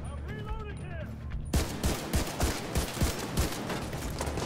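Rifle fire in the shooter game The Division 2 starts abruptly after a quiet moment, with rapid repeated loud shots in a rhythmic burst close up and a voice briefly audible beforehand.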